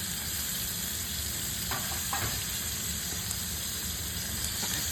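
Sausages frying in a pan, an even, continuous sizzle with occasional faint utensil taps, close and without speech.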